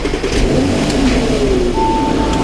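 An old Porsche engine, about 15 years old, rumbles steadily nearby with old-car vibration and rises in pitch as it revs, with no voices.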